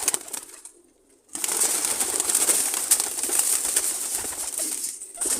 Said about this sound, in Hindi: बाकी शोर थोड़ा सा आ रहा होगा, इसके लिए आपसे माजरत, क्योंकि कबूतर ज़्यादा हैं।